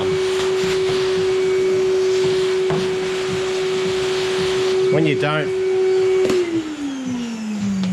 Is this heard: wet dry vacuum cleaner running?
yes